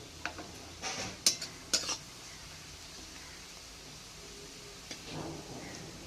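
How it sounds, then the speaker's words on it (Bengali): Chili and turmeric paste mixed in water hits onions frying in a pan for a dried-fish curry, producing a soft wet hiss followed by a few loud utensil clanks and scrapes, then quieter sizzling. "এইবার ওই লঙ্কার গুঁড়ো হলুদ গুঁড়োটা জলে গুলিয়ে রেখেছি ঢেলে দেবো পেঁয়াজের মধ্যে"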